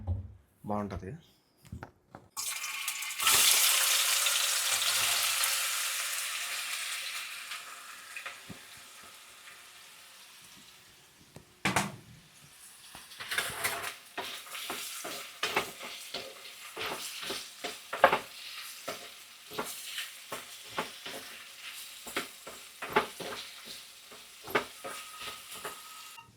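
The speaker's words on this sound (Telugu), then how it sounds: "ఇది ఇంకా బాగా నూనెలో వేయించుకుంటే ఈ చేదంతా పోతుంది. నూనె బాగా దండిగా వేసుకొని వేయించుకుంటే" Bitter gourd hits plenty of hot oil with a sudden hissing sizzle that slowly fades, followed by clattering pan and utensil knocks while someone talks now and then.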